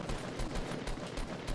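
Rapid bursts of Fortnite Battle Royale gunfire, a steady string of sharp shots spaced roughly every fifth of a second, loud and close with no talking.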